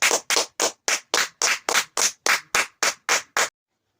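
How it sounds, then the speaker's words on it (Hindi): An audience in a seated gathering welcomes a speaker with applause: about a dozen loud, evenly spaced claps or bursts, close and clean, then sudden silence with no talk. "अपना अपना जगह में बैठ के जोरदार तालियों से स्वागत करें"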